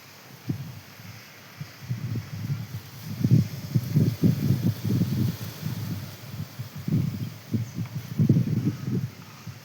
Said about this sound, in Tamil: நல்லா நேச்சுரலாக காற்று அடிக்குது